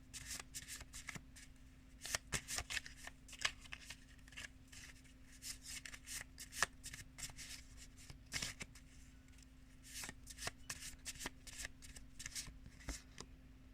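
Tarot cards are shuffled by hand in repeated bursts of crisp riffling and flicking, close and quiet against a low steady hum, with no talking.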